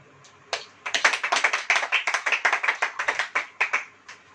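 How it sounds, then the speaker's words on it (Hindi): An audience at a Hindi church sermon claps together in a quick, steady rhythm for several seconds, the claps close and bright with no speech over them. "ताली हो जाओ।"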